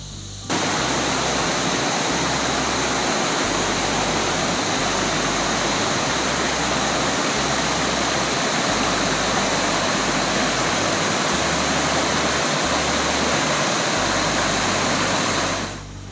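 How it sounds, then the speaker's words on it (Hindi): A mountain stream rushes through dense Himalayan forest on a trek, a steady, loud, broadband roar of flowing water filling the scene without pause. "नीचे पोम बुग्याल से जो एक पानी की धारा ऊपर से नीचे आती दिखी थी, शायद वह यही नाला था"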